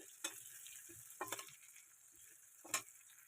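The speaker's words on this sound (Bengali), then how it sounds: "এখন পেঁয়াজগুলো দিয়ে দেবো।" Onions fry in oil with a little sugar in a wok, a quiet steady sizzle broken by a few sharp scrapes of stirring.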